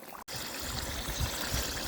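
Water boiling hard in a pot over high heat while cooking Fergana-style plov, a steady low rumbling bubble with irregular gurgles, close and continuous after a brief gap near the start.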